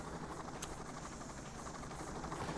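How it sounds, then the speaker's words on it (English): Helicopter in the Payday 2 video game, a steady rotor drone and engine hum, faint and continuous, alone. "Hey, helicopter, you're noisy."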